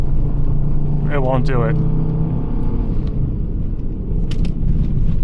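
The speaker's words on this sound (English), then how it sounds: "We're gonna give it a bunch of gas around this hairpin." A car engine rumbles steadily under throttle through a hairpin turn on winter tires, a low continuous drone heard under a man's brief speech.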